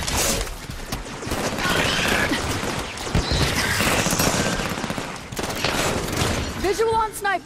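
Sustained bursts of automatic gunfire in Halo 5: Guardians, loud and close, rattling almost continuously with a few heavier impacts, and voices calling out near the end.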